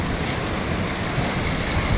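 Strong sea waves at a beach with clear water and fine sand, heard as a loud, continuous wash of surf and wind noise with no voices.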